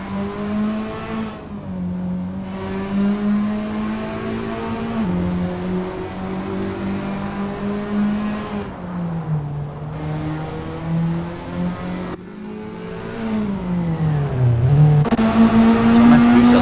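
Toyota S-FR race car engine in Assetto Corsa sim racing drones steadily, its pitch rising and falling through gear changes, with a louder rev climbing near the end; a voice talks over it throughout.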